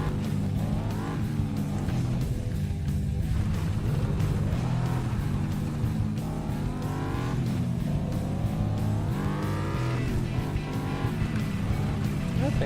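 A video game truck engine drones and whines through rising gear shifts, with a player talking over it throughout.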